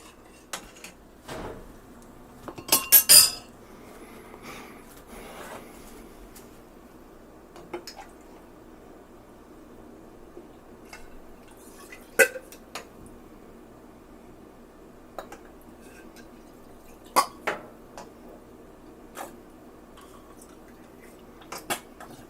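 Sugar is stirred into strawberry wine must in a quiet kitchen. Sparse, faint clinks of a utensil against the vessel come at irregular intervals, with one brief louder rattle near the start and no voices.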